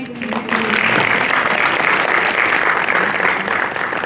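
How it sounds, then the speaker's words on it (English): An audience applauds at the close of a talk on emotional intelligence, the clapping swelling after a brief opening and staying full and even, with a faint voice at the very start. "Another round of applause."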